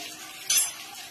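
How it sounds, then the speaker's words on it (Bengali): Grated ginger and garlic fry in a pan with a soft, steady sizzle, and a short stirring scrape of a utensil rises near the middle. "আদা রসুনটা একটু ভাজা ভাজা করে"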